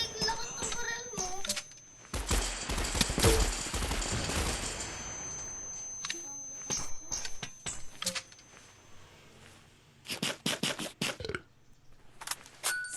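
Gunfire in a Minecraft gun battle, loud bursts of rapid shots stacking into a dense fusillade, then scattered single shots and short volleys, with a voice talking over parts of it.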